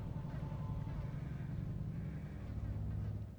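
A car engine in the video game Dishonored: The Knife of Dunwall rumbles steadily at low pitch, arriving with a faint rev, heard alone without talking.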